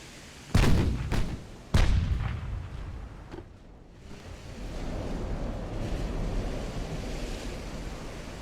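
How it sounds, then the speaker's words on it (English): 11-inch naval guns firing in the Ultimate Admiral: Dreadnoughts naval battle game: two heavy booms close together, then a fainter thump, fading into steady sea and wind noise. "we're going to get our 11-inch guns firing"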